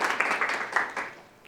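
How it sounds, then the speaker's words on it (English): Audience applause at a neuroscience talk, a patter of clapping hands that rises in a few bursts and then fades away, with no one speaking. "want to give a huge round of applause to Mace, our first speaker"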